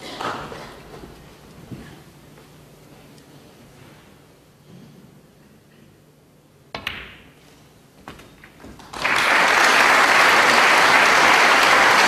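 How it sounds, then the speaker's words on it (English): Snooker crowd breaking into applause for frame ball as Ronnie O'Sullivan plays Gerard Greene at the 2013 Paul Hunter Classic; a quiet arena with a few ball clicks gives way to sudden, loud, sustained clapping. "Applause for frame ball."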